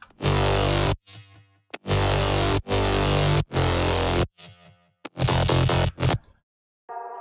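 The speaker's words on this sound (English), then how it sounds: "So the bass layers all together are going to sound like this." Thick layered synth bass built from saw waves plays in heavy sustained chords, stopping and restarting in a choppy rhythm, loud and up front with no talking.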